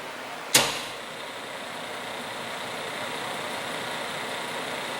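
A Max-Evap/Techmatic 50-60 GPH atmospheric evaporator with its blower and drive motor running: a sharp click near the start, then a steady, even whirring hum that holds at a moderate level with no voices.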